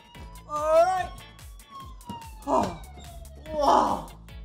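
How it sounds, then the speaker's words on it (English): A police car siren wail slowly sliding down in pitch, heard indoors at a children's museum, with excited voice exclamations bursting over it. "And we have the siren."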